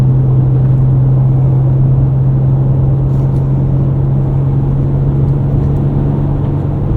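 A 2024 Ford Ranger Raptor on Firestone Destination mud-terrain tires drives over snow, its steady low engine hum and road rumble loud and constant from inside the cabin, with no talk.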